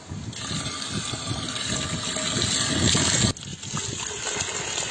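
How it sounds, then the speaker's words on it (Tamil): Water poured into a pot to rinse dried anchovies gushes steadily with a broad rushing hiss, then briefly cuts off and resumes more unevenly, close by. "தேவையான அளவு தண்ணி சேர்த்துக்கலாம்."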